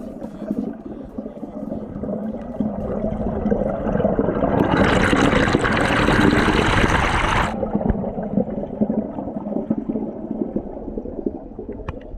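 Water from the Meschio river spring near Vittorio Veneto flows in a steady, close gurgling rush that swells into a louder hiss for a few seconds in the middle before settling back.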